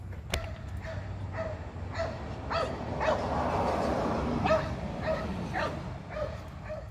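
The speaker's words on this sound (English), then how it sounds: "here comes that happy dog again." An excited dog barks in repeated short bursts, mixed with yips and whimpers, at moderate distance over quiet background noise during rear brake work on a 1999-2004 Jeep Grand Cherokee WJ.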